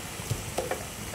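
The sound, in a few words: shrimp paste (terasi) sizzling in a frying pan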